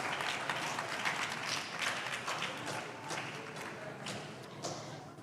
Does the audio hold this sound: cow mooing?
no